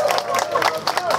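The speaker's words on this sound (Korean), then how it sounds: "박수 부탁드립니다" A crowd at an outdoor protest rally in Daegu against the Fukushima wastewater ocean release claps and calls out, brisk applause mixed with raised voices and shouts, moderately loud throughout.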